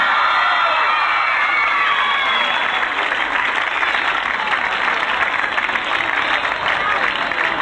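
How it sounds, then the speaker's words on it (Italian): Audience welcoming a musician onto the stage at a concert with steady, full applause mixed with a few cheers and whoops, loud and continuous for the whole stretch. "Accogliamolo con un bel applauso"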